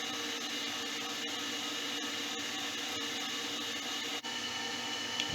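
A Myford metal lathe turns centre-drilled bar stock down to its outside diameter, making a steady, even machine hum with a constant cutting hiss that barely changes, apart from one brief dip near the end.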